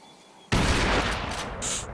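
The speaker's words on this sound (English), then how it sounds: "I do have a sniper rifle on me" A sniper rifle shot rings out in the video game Crysis: one sudden, loud, close blast that stays heavy and ringing for over a second, with a hissing echo tail.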